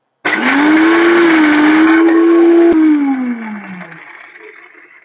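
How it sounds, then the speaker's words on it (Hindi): A loud electric mixer grinder whirs at a high steady pitch for a few seconds, then winds down as the motor slows and fades. "ये देखिए मैंने मिक्सी लगा दी है और मिक्सी में इसको पीसना शुरू हो जाएगा"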